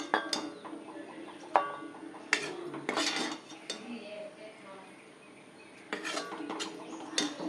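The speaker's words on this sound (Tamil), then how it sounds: "இப்போ நான் இதை வந்து சர்விங் பவுலுக்கு மாற்றுறேன்" Drumstick leaf stir-fry being scooped from a pan into a serving bowl, with sharp clinks and scrapes of a metal spoon against cookware in irregular bursts, nearby and moderately loud, faint birdsong in the background.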